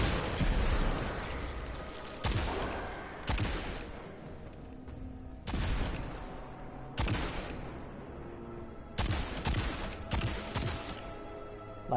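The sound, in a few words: living grenade explosions in video game Destiny 2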